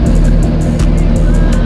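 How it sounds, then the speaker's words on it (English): A truck engine being tuned roars loud and steady nearby in a short burst, with a rapid repeating pulse in its deep rumble. "I tell y'all, man, this thing get loud"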